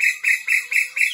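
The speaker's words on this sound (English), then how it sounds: "The cuckoo is also on the top." A cuckoo calls from a treetop in five quick, even, shrill high notes, loud and close, with no other sound.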